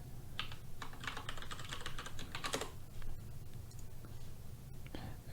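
Someone types a password on a computer keyboard to unlock a Phantom crypto wallet: a quick run of light, close key clicks over a low steady background hum, with no talking.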